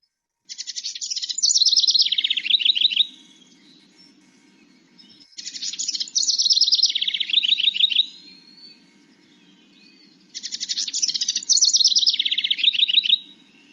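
A house wren sings three loud, clear bursts of jumbled, bubbling chatter, each about two to three seconds long, separated by short pauses, with a faint low hum in the background.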